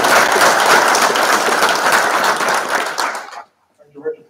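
Loud, dense applause from an audience at a regional commission meeting, steady for about three seconds before stopping abruptly, followed by a short quiet moment and faint stray sounds.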